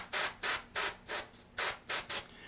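An airbrush sprays orange paint onto a miniature in short, rhythmic hissing bursts, about seven quick puffs spaced roughly evenly, close and fairly soft.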